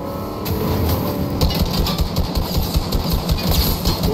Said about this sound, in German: Hier höre ich ein fettes Auto.